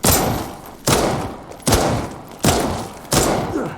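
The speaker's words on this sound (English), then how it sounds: "So this is now the most powerful pistol in the game." Five loud pistol shots from the most powerful handgun in Resident Evil Re:Verse, fired at a steady pace about one per second. Each blast is sharp and close, and its echo tails away before the next shot.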